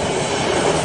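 A train rumbles along in an Indonesian horror video game, a loud, steady, dense roar with no break across the short moment.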